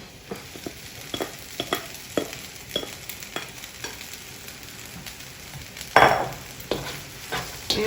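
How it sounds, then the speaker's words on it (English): Rice being stirred into a vegetable stir fry in a pan, with repeated scraping and clacking strokes at an uneven rhythm over a low sizzle, close and fairly quiet, plus one louder scrape near the end. "And we're just gonna mix it in there."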